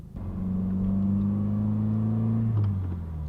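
A Subaru WRX STI with a cat-back exhaust revs to about 4000 rpm in first gear, a loud, close, deep drone that climbs steadily, then drops back as the throttle releases.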